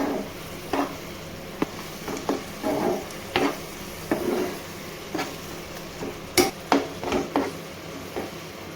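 A spinach and egg curry with onion and chilli is stirred in a pan after steaming under a lid, with a series of irregular scraping strokes and soft knocks over a faint low sizzle, and no talking.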